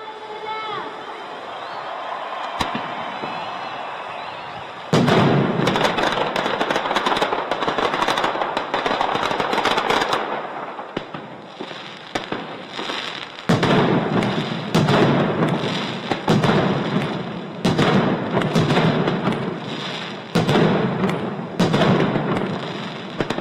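A mascletà firecracker barrage at the Fallas in Valencia, with dense, rapid volleys of loud bangs and crackling in repeated bursts, after crowd voices and chatter at the start.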